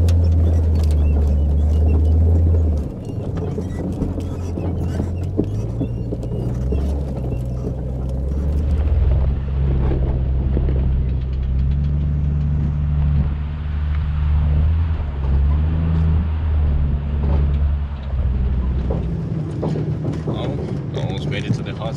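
A vehicle climbs steep, snowy hills on the way to a hot spring, its engine a steady low drone with shifting tones and wind noise throughout, and voices talk over it.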